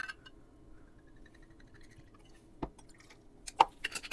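Captain Morgan Original Spiced Rum poured from the bottle, heard as scattered small liquid splashes and glassy clinks that build into a few louder bursts near the end, close by and with no voices.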